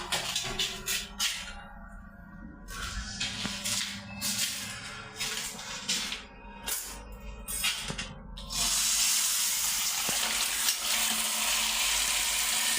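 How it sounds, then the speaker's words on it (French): A shower valve is opened in a bathroom during plumbing work, and water starts running with a steady, loud hiss that takes over after earlier clattering and handling noises. "C'est ça qui commande la douche là. Je l'ouvre."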